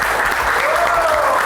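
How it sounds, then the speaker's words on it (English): An audience applauds the top four contestants at a Toyota motorsport academy finals, dense continuous clapping, loud and sustained throughout. "A big applause."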